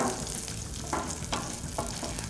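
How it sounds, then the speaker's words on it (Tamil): Dry chillies, cardamom and curry leaves sautéing in a pan for a brinjal fish gravy, giving a steady close-up sizzle and crackle with faint stirring scrapes, no voices. "இப்போ இதை வந்து பார்த்திங்கன்னா கொஞ்சம் சாத்தே பண்ணிக்கோங்க"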